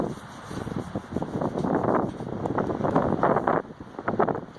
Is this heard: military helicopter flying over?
no